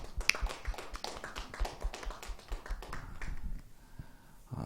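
A church congregation at a Sunday worship service claps together in a burst of applause that gradually thins out and fades, with no voices over it.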